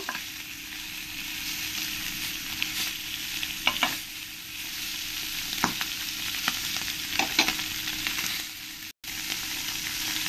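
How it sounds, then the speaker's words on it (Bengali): Small puti fish fry in a little oil, giving a continuous hissing sizzle with scattered sharp pops and occasional turning clicks, close and steady, with no speech. "এবার আমি এই পুঁটি মাছগুলো এর মধ্যে দিয়ে দেব, দিয়ে খুব হালকা করে একটু ভেজে নেব।"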